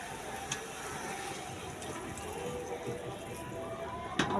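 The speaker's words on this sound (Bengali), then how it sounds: "দেখুন বন্ধুরা, তরকারিতে এখন গরম জল দেবো।" Hot water pours into a simmering fish curry of small puti fish and aubergine, giving a steady, low liquid rush that runs the whole way through and ends with a brief louder splash.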